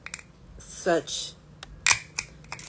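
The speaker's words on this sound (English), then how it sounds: "I think I have to use a smaller pair of scissors" Scissors snip through repurposed craft material in a few sharp, crisp cuts close by, with light handling clicks between them.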